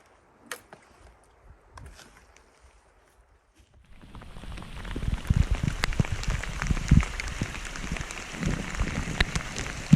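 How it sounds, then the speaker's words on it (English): Rain mixed with hail falling at a mountain campsite in Titcomb Basin, Bridger Wilderness, Wyoming, starting after a few faint taps and quiet, then building into a steady, close patter with sharp individual impacts. "Definitely got some rain and hail coming in this morning."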